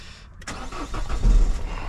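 Peugeot 5008 with a 1.6 HDi diesel engine and a faulty crankshaft position sensor cranks briefly, then fires and settles into a close, steady running rumble.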